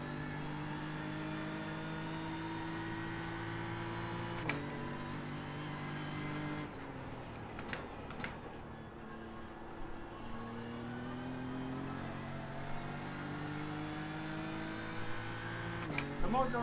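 Simulated BMW race car engine in iRacing during a Nürburgring 24 Hours endurance race, a steady droning note with rising and falling harmonics as revs shift through gears, continuous and fairly close throughout.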